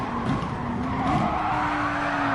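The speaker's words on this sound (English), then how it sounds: "We're gonna slide a lot. Drift!" Race car tires skid and squeal through a long drift in Gran Turismo Sport, a sustained loud screech layered over steady engine roar for the whole stretch, with no talking.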